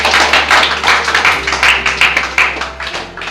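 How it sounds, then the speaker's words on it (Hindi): Church congregation at a Sunday sermon clapping loudly together, a dense, fast stream of overlapping claps that stays strong and steady throughout, close and without talk. "जोरदार ताली मारो।"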